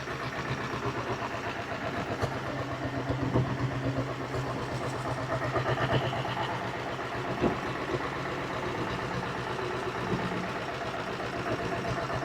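A 1976 diesel Bullet motorcycle idles nearby with a steady, rhythmic low thumping that holds an even pace for the whole stretch, with no voices.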